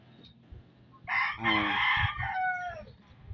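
A fighting rooster lets out a single loud, close crow, rising and drawn out before trailing off, with faint farmyard background and no talk.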